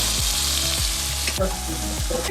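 Tomatoes dry-roast in a pan over a low flame, giving a continuous close sizzle broken by a few rhythmic scraping stirs, with no talking.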